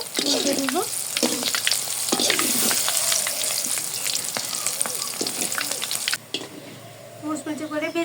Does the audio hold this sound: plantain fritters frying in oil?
yes